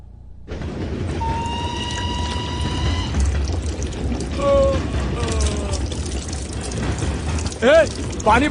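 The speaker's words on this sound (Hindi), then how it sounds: "पानी बह रहा है।" Water flows and pours steadily as a continuous broadband wash, with faint tonal whines and squeaks drifting over it and a brief swell near the end; no one speaks.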